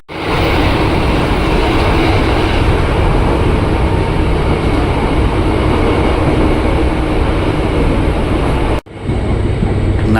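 A KRL commuter train rumbles loudly and continuously while approaching Bogor station, a dense close roar of wheels and carriage noise with a brief dip near the end.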